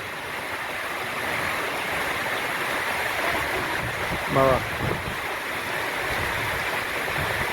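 Steady broadband rush of a river in spate during heavy rain, a continuous wash of flowing water and rainfall with a brief voice speaking over it midway.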